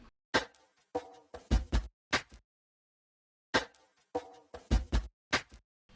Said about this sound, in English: moving into the chorus, I added this percussion loop